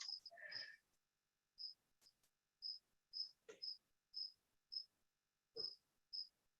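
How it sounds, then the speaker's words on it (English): A cricket living in a basement chirps in short, sharp bursts at a steady, unhurried rhythm, about a dozen chirps in a quiet room with faint distant thumps between them. "there's a cricket living somewhere in my basement, so if you're not crazy if you're hearing that."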